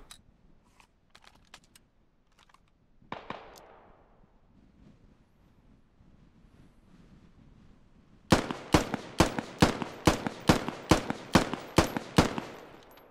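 Rapid gunfire from a fire team in the tactical shooter Squad, a single shot early, then after a lull a quick burst of about a dozen sharp, loud cracks in fast rhythm.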